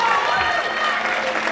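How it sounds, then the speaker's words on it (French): A crowd applauds a young offensive-style table tennis player's introduction at a French league match between Roanne and Nice Cavigal, a steady clapping wash throughout, with an announcer's voice over it. "Merci d'applaudir Corentin Mazot."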